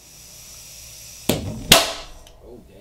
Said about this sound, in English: This thing's actually ready to fire.